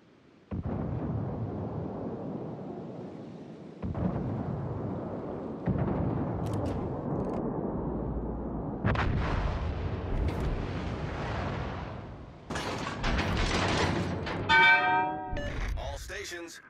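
Heavy naval gunfire from the battleship Iowa in a video game: repeated deep booming blasts at irregular intervals, each sustaining a loud rumbling tail, with sharper crackling bursts near the end.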